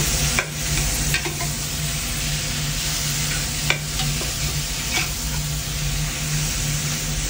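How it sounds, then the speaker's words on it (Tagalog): Pork noodle soup being stirred in a pot, a steady bubbling simmer with a few soft utensil knocks against the side, close and continuous with no talking. "Stir."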